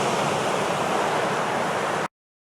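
Waves washing onto a sandy beach at Pebble Beach along 17 Mile Drive, a loud, steady broadband rush of surf close by that cuts off abruptly near the end.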